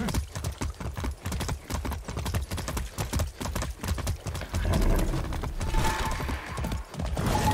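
Horse hooves clip-clop in Far Cry 6 at a steady walking rhythm, close and fairly loud, and a brief burst of louder rumbling noise joins near the end.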